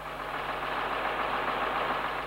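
A diesel engine running steadily, a dense, even broadband roar with a low hum beneath, constant and fairly close with no talk over it.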